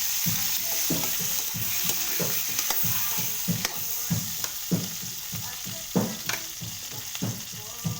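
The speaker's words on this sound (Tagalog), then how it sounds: "Tapos, ayan nga, pwede na natin ilagay yung ating isda." Fish frying in a pan of hot oil gives a steady, close sizzle, broken by repeated crackling bursts and stirring scrapes in an uneven rhythm.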